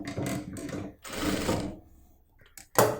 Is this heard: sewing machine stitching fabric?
yes